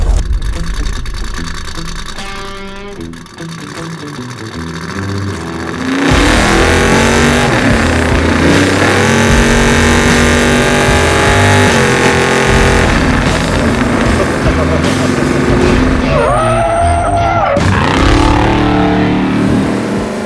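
A 830-horsepower Ford F100 luxury pre-runner truck engine rumbles at idle, then revs up loudly and pulls away, its steady engine roar continuing as it drives on the street.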